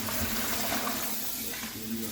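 Water poured from a cooking pot into a kitchen sink makes a soft, continuous gushing splash that runs evenly for about two seconds.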